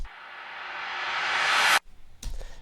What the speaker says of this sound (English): the big kind of change I made is this fast shimmer pan